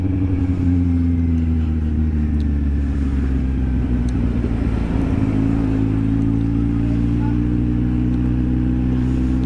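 A Kawasaki Z750 motorcycle engine idles with a deep, steady exhaust rumble, dipping briefly midway before settling back into an even drone.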